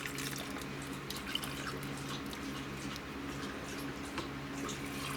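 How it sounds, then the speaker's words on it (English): Swedish meatball sauce is ladled into canning jars, a soft continuous liquid pour and gentle dripping over a low kitchen hum, with no talking. "grab a hold of my ladle, and let's ladle in."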